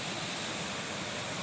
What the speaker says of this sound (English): this stream I'm following is just almost like an unending, mile-long series of little waterfalls like this